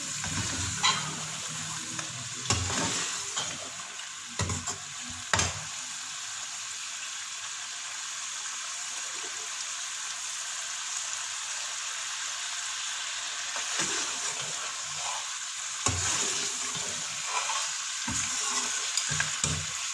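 Mutton frying in ghee in a karahi, a constant loud sizzle with repeated scraping stirs of a spoon in bursts, close and uninterrupted by talk.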